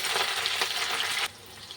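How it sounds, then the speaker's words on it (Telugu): Masala spices sizzle in a pan for chicken curry with curd. A broad, steady frying hiss runs loud for over a second, then drops off abruptly to a quieter crackle. "మసాలాలు అయితే ఫ్రై అవుతున్నాయి కదా"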